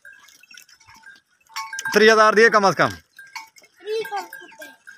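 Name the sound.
goats bleating at a goat market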